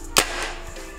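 A paintball marker fires and its ball strikes a tethered paintball in one sharp, loud crack, followed by a fainter secondary snap against a steady background hiss.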